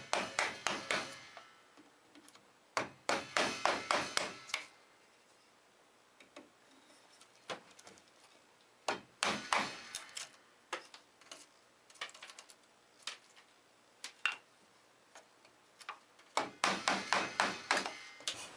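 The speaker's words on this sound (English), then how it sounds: "I can go ahead and start cleaning it up with the chisel" Chisel cleaning out a wooden mortise, heard as bursts of sharp, rapid taps and scraping cuts in quick clusters, separated by quieter pauses with occasional single ticks.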